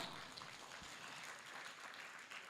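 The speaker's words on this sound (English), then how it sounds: "let's give them a hand clap, a big one" Audience hand clapping at an agricultural extension week event in Uganda, a faint, distant, continuous spatter of applause with a slight voice underneath.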